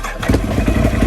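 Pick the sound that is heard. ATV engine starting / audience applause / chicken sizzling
ATV engine starting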